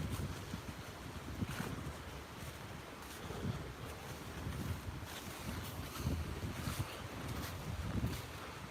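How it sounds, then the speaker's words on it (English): Strong gusty wind buffets a microphone outdoors on a morning walk in the UK, a continuous low roaring rumble with repeated louder gusts throughout, no voices. "It's very gusty here a minute at the moment."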